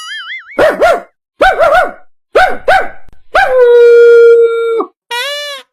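A man imitates a dog with his voice, giving a rapid series of bark-like yelps, then a long drawn-out howl and a final rising yip, close and loud in a quiet room.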